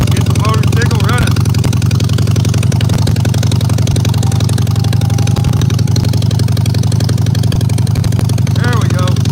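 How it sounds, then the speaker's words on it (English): A motorcycle engine starts and settles into a steady, loud idle that runs close by throughout, with a person talking over it. "Get the motorcycle running."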